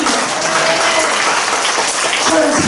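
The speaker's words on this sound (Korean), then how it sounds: "하나님께 영광의 박수 드리겠습니다" A church congregation claps together in a dense, loud burst of applause, giving glory to God, steady throughout with no break.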